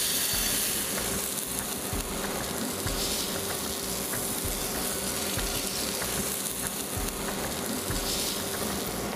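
Amboli batter sizzling on a hot pan over low heat, a steady close-up crackling hiss running throughout with faint scattered pops.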